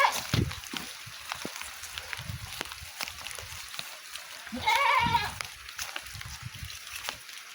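A goat bleats once, fairly close, amid sporadic voices and faint outdoor clatter.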